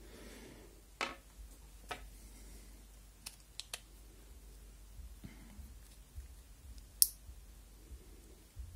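Small metallic clicks and ticks come from loosening the handle nut on a Shimano Calcutta Conquest baitcasting reel, scattered and faint over a quiet room hum.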